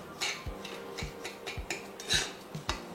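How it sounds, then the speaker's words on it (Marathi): Semolina roasting in ghee in a pan over low heat, stirred with a metal spoon that gives regular scraping and clinking strokes against the pan, about two per second, moderately close. "मंद आचेवर असंच हा रवा अजून तुपामध्ये छान भाजून घेणार आहे."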